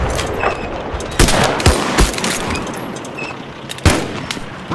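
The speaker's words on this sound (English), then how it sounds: "Suppressing fire!" Rapid gunfire crackles in the war game Mud and Blood, bursts of suppressing fire and sharp single shots popping close and loud over a continuous noisy battlefield din.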